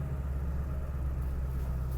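A 2002 Ford F250 Lariat diesel truck in two-wheel drive rolls along, giving a steady low engine rumble that stays even and moderately quiet throughout with no voices.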